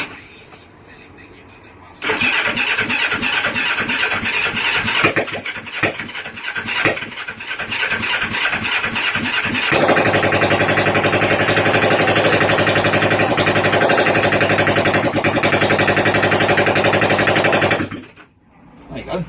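A Yamaha cafe racer motorcycle engine cranks with sputtering, uneven firing, then catches and holds a loud, steady idle that runs right up close until it cuts off near the end.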